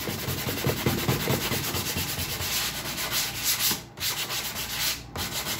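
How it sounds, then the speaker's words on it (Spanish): Wooden rings are sanded by hand with sandpaper in a workshop, producing close, continuous scratchy rubbing strokes in a steady back-and-forth rhythm with two brief pauses. "eso siempre hay que lijarlo"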